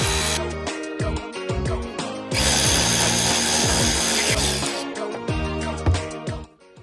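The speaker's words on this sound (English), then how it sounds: "now we have access to go at these with our 7 millimeter ratchet" A 7 mm ratchet works on brake caliper slider bolts of an MK6 Jetta Sportwagen TDI, producing rapid repeated clicking ratchet strokes up close, with a brief louder continuous grinding burst in the middle.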